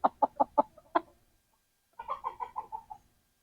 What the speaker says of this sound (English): Now I just got one of the hens here